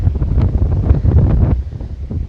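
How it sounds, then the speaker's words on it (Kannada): Strong gusting wind buffets the microphone on the Hosahalli Gudda hilltop near Sakleshpur in the monsoon, a loud, rumbling, uneven roar filling the whole moment with no voices. "ಫುಲ್ ಗಾಳಿಲೇ"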